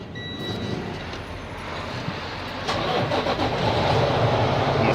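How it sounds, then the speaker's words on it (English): An owner-operator's truck engine cranks and catches during a pre-trip inspection, the steady cranking noise swelling into a louder, fuller running roar partway through, close and alone. "I'm gonna start my truck."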